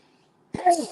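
A single short sneeze from a person indoors, close and fairly loud, bursting out abruptly after a near-silent moment.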